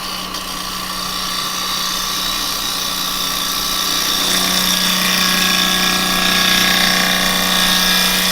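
A wood lathe spinning a turned piece while a tool makes cuts on the bevel, a steady close whirring hum with a high scraping hiss that builds slightly and holds throughout.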